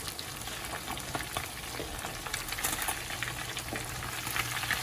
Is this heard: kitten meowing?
no